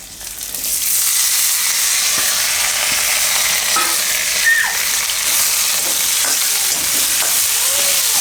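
Potatoes frying with curry leaves in a hot pan, a loud, steady sizzle and hiss close by that holds throughout, with faint stirring scrapes underneath.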